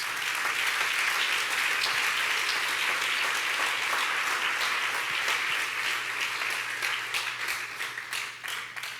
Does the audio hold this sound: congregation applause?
yes